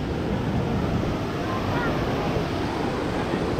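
Fast-flowing river water rushes near a waterfall, a loud, steady broadband roar with some wind buffeting on the microphone and no clear breaks.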